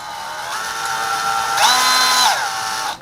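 An electric drill set to reverse runs slowly and steadily with a whining motor hum, briefly rising in pitch partway through before settling and cutting off, loud and close with no talking.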